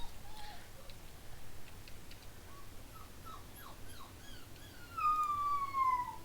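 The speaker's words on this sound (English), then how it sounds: "Yeah, you can probably hear the little puppy." A little puppy whimpers and cries in a thin, high voice, with a longer howling whine near the end, heard faintly over a low room hum.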